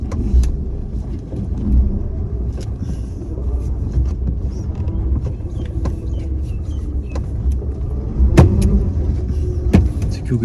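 A car drives along with a steady low engine and road rumble heard from inside, and occasional small clicks and knocks sit over the drone.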